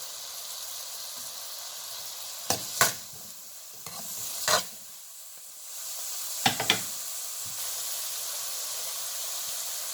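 Onions dropped into hot oil in a kadhai for spicy chole, a steady frying hiss under a few sharp stirring scrapes, close and fairly loud with no talking.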